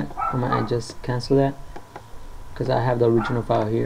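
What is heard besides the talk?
dogs barking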